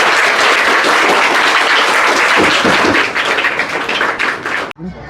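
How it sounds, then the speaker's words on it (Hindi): Loud, close applause for schoolgirls at a school program in Jaipur, a thick burst of clapping that thins toward the end and then cuts off abruptly. "ज़ोरदार तालियां इन बच्चियों को।"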